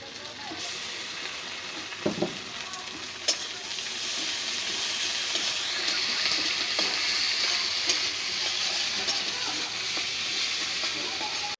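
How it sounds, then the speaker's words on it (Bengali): Onion, garlic and ginger sauté with spices in a cooking pot, a couple of sharp utensil clunks early, then a steady close sizzle with soft stirring. "হালকা একটু মশলা দিয়ে যে পেঁয়াজ রসুন আদা সব কিছু কষিয়ে নিলাম"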